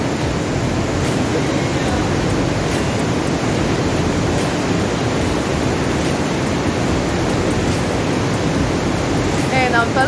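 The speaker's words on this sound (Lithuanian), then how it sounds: "Mažas kriokliukas." A small mountain waterfall near a river gorge trail in Austria gives a loud, steady rushing roar close by with no break, and a voice can be picked out faintly underneath.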